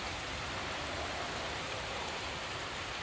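Steady rain falls during a storm in the southern suburbs of Adelaide, a dense, even hiss of downpour that continues without a break and without voices.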